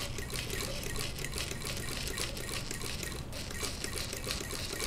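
A vintage Singer Model 20 toy sewing machine chain stitching at a quick pace makes a fast, steady mechanical clatter of light rapid ticks, close and continuous for the whole stretch without speech.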